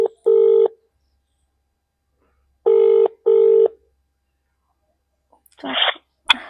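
A phone's ringback tone sounds three times in even pulses with silent gaps, followed by a brief rustle as the call connects.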